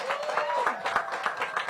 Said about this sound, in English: let's give that 10-year lease a big round of applause.